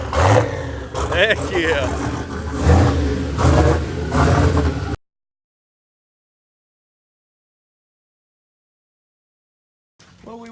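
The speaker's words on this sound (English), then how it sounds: "Freaking turbo sound." The turbocharged engine of a 1971 Impala revs loudly nearby for about five seconds, mixed with excited talking, and then the sound drops to silence.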